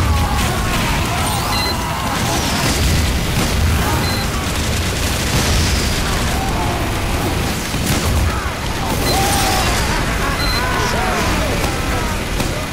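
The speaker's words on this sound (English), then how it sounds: "okay, let's do some direct fire." Loose Cannon direct-fire explosions in Team Fortress 2 on the Snowycoast map sound as repeated booms and crashes over dense, continuous game noise, loud throughout, with voices mixed in.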